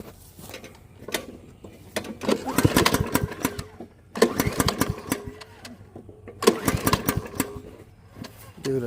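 A Troy-Bilt TB516 EC lawn mower with a newly replaced fuel line is pull-started outdoors, with several rough recoil pulls that cough and sputter in bursts but never catch, under occasional talk.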